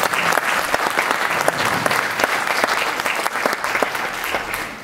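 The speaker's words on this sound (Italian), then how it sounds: "io un applauso a Umberto glielo farei" A theatre audience breaks into applause at a book presentation, loud close clapping from many hands with distinct crisp claps on top, holding steady before easing off at the end.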